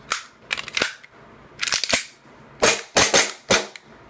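A Marui-type airsoft pistol fires in close, sharp cracks, some in quick pairs and some single, with short pauses between the groups of shots and no voices.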